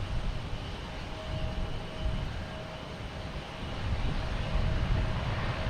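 A Porter airliner on approach to land at Boston Logan Airport, a broad, distant engine rumble with a faint whine, swelling slightly louder toward the end.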